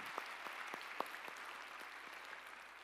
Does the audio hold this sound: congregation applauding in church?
yes